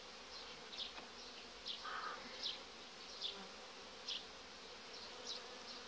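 Honeybees buzzing around frames lifted from a hive, a steady soft hum with several brief louder passes of individual bees flying close, no talking.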